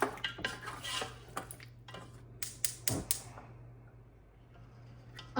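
Yogurt being mixed into beef korma in a pot with the heat off, a series of close spoon clinks and scrapes against the metal in uneven bursts, then a quieter stretch.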